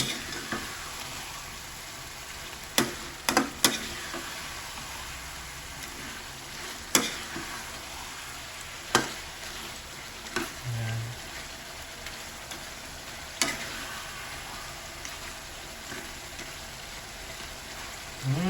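Pork binagoongan sizzles steadily in a pan while a utensil stirs it, scraping and knocking against the metal every few seconds over a continuous crackling fry.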